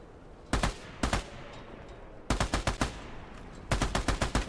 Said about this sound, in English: A little blind fire for the boys.